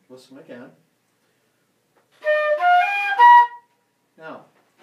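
A flute plays the short closing phrase of the Mardi Gras song The Second Line: a brief run of a few clear, sustained notes, close and fairly loud, with someone talking just before and after.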